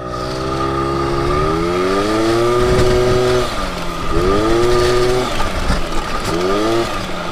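An Aprilia SR 50 Motard scooter engine buzzes loudly and close while drifting, its pitch rising and falling in repeated revving sweeps, with no talking.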